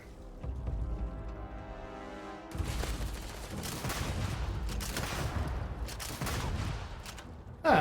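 Gunfire in the sci-fi game Starfield: a dense, loud burst of rapid shots beginning after a brief quieter stretch, continuing in rattling clusters with a sharp blast at the very end.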